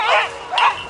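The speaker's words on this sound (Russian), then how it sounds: "Собаки уже готовы бежать." Two sharp, excited yelps from sled dogs waiting at the start of the Beringia 2019 race in Kamchatka, close and loud, with a short gap between them.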